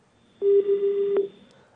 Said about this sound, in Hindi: तो एक बार फिर फोन काट दिया जाता है।